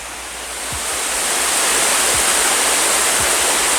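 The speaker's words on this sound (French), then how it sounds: "Les belles cascades là, qui montent jusqu'à Roxalière" Waterfalls at L'Aigue Brun, a steady full roar of cascading water that swells slightly in the first second, then holds dense and continuous, with a few faint low thumps beneath.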